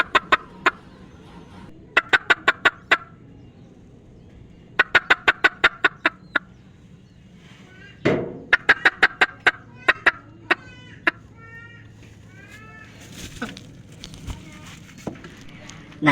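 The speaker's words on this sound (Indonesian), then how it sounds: "Kita lihat proses ayam mau bertelur dulu ya pemirsa." A hen clucking before laying an egg, loud close bursts of rapid clucks in rhythmic clusters with pauses between, plus a few scratchy movements; a voice speaks briefly in the middle.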